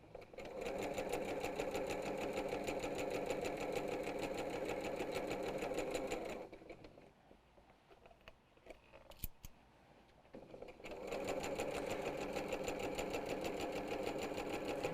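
A sewing machine stitches a quilt panel in a loud, steady, rapid run for about six seconds, stops for a quiet stretch of small handling noises, then resumes its continuous stitching.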